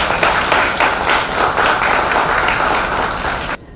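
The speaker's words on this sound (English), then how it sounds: "I think we should all give him a round of applause." An audience at a medical awareness event about nephrotic syndrome giving a round of applause, with dense, steady clapping from many hands that stops abruptly at the end.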